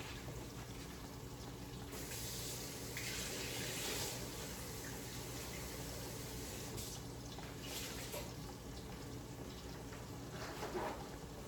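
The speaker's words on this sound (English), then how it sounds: "I'm going to rinse off my vinegar and baking soda water" Faint, steady running water from a tap pours continuously, rinsing off vinegar and baking soda water, with slight swells in the splashing.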